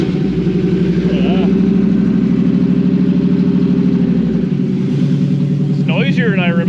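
A 1957 Chevy Bel Air engine runs loud and steady with a low rumbling idle, then drops in pitch before a brief rising rev near the end, while people talk over it.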